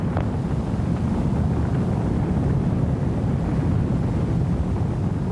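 Rocket space plane engines roar steadily through a launch, a dense, constant low rumble with wind-like buffeting, loud and unbroken for the whole stretch with no talk over it.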